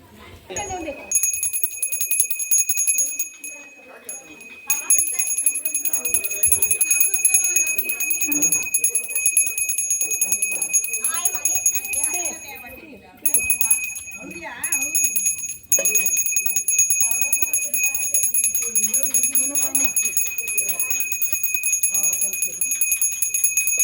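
A hand bell rings with sustained high metallic tones throughout, while voices chatter nearby during a Gauri arrival festival welcome.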